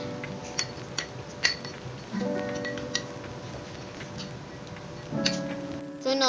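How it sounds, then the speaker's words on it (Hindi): Spoon or stirrer ticking and clinking against a small bowl while honey and lemon face pack is mixed, light intermittent taps over a soft background hum. "इसको डाल के कुछ ड्रॉप्स फिर हम इसको मिक्स करेंगे"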